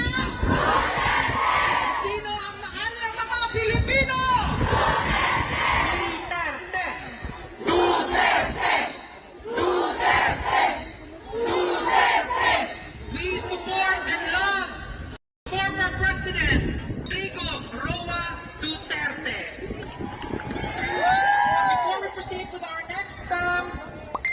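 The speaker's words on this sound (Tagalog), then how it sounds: "sigaw ng masang Pilipino!" A large crowd of Duterte supporters in Europe shouts and cheers loudly and continuously, with chanting bursts and rallying cries that swell and dip throughout, voices overlapping in a dense roar.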